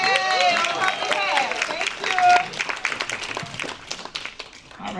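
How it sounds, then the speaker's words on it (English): Audience applause at a women's health and business awards gala, a dense crowd clapping with cheers, steady then tapering over a few seconds, with a voice speaking over the end. "Y'all can still clap."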